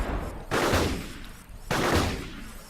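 Two heavy shotgun blasts from a combat robot in the game Gladiabots boom out about a second apart, each a loud sharp burst with a decaying rumble, and no voices are heard.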